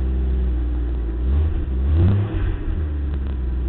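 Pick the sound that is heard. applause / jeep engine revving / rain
jeep engine revving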